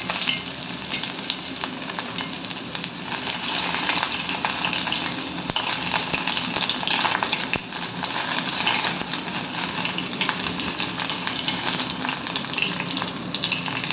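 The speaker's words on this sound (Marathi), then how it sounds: "आता मी कढईमध्ये थोडंसं तेल घेतलेलं आहे, 1 चमचा। तर त्यामध्ये आधी आपण पनीर आहे फ्राय करून घेणार आहोत।" Paneer frying in a spoonful of oil in a kadai, a steady, dense sizzle that runs loud and unbroken throughout with faint stirring clatter.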